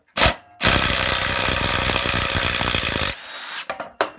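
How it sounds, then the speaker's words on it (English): DeWalt DCF887 impact driver hammering a screw into tough wood, a loud continuous rapid rattling buzz lasting about two and a half seconds, preceded by a short burst and followed by fainter handling clicks. "That's tough wood. So it's a great little impact."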